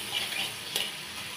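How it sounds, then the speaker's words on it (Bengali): Halved potatoes sizzle steadily in a pan with salt, a soft continuous frying hiss with a brief louder stir scrape midway, no voices. "এবার ভালো করে ভেজে নেব।"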